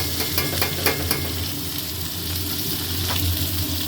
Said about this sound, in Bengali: এটা ভালো করে বেগুন আর আলুটাকে ভেজে নিলাম।